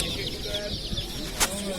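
Chickens and chicks at a poultry market in Sakarya, clucking and peeping steadily at moderate distance amid general crowd murmur, with one brief sharp noise near the end.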